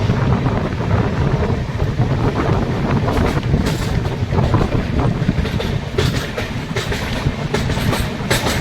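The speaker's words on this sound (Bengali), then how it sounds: "সামনে ট্রেনটা কার্ভ নিচ্ছে দেখুন" Ranchi–Howrah Shatabdi Express train rounding a curve, heard from on board as a steady loud rumble of wheels and carriage with wind rush, with occasional sharper rattles and squeals toward the end.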